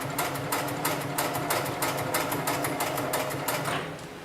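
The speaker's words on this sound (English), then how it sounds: "I'm going to go ahead and turn this material 90 degrees, set my foot back down, and continue sewing" A 733CS heavy-material sewing machine stitches lifting-sling material in a fast, even, rapid-fire mechanical chatter, running in steady bursts close up before slowing and stopping near the end.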